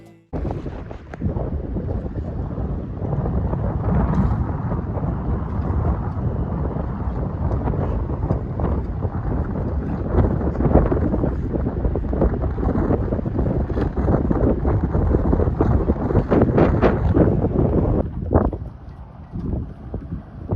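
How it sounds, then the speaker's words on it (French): Strong wind gusts at sea, 30 to 40 knots near a catamaran by a coral reef, roaring and buffeting the microphone loudly and continuously for about twenty seconds before easing at the end. "On vient d'avoir des rafales à plus de 30-40 nœuds."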